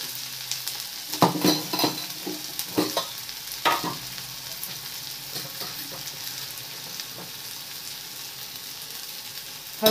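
Onions and green chillies frying in a pan, a steady sizzle with irregular scraping and stirring clatters clustered early on, easing into a quieter crackle.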